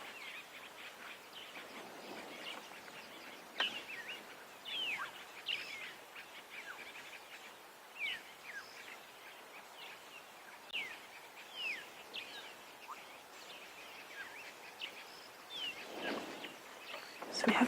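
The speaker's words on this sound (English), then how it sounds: "So we have got a few birds calling, but nothing that sounds like alarm calls." Scattered birds calling at sunset on a wildlife safari, faint chirps and short whistles rising from a quiet outdoor background, with a few louder calls now and then.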